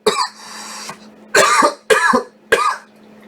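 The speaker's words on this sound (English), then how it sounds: "If I cough from the vaporizer, that's when I call it quits." Coughing after a hit from a vaporizer, four harsh, close, loud coughs in separate bursts with short breathy pauses between them, and no talking.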